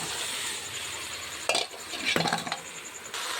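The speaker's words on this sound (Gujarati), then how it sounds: "તો હવે આપણે ફણસ નાખી દઈએ આમાં." Jackfruit pieces tossed into a hot pan with crushed cumin and stirred for a vegetable curry, giving a steady close sizzle broken by a few louder scraping stirs and clinks of the spoon against the pan.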